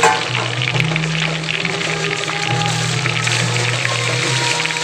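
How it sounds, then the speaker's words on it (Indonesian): Seasoned catfish frying in hot oil, a steady dense sizzle with a low bubbling hum running continuously throughout, close and fairly loud with no talk. "Setelah lele-lele ini dibersihkan, diberi rempah lengkap, lalu kita goreng."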